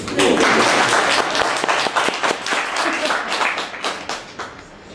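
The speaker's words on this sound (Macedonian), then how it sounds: "Ајде молим спонтан аплауз." An audience at a live show bursts into dense, loud applause that holds steady and then gradually thins out over several seconds.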